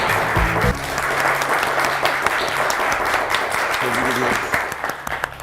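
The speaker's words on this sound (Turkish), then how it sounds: "Bir de alkış duysun ki rahatlasın iyice." Studio audience applause on a Turkish word game show, steady crowd clapping that runs throughout beneath scattered musical tones and a voice, easing slightly at the end.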